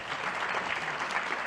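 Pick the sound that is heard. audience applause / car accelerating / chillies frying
audience applause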